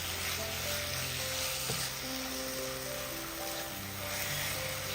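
Sugar stirred in a pan as it melts, a low continuous sizzle with gentle scraping spoon movements, close and fairly quiet throughout.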